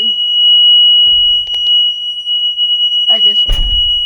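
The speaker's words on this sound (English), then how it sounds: "the alarm is going to sound. And it needs to sound." A steady, high-pitched alarm tone sounds continuously when a vehicle door is opened during a DMV pre-trip inspection. Brief voice and handling noises break in near the end.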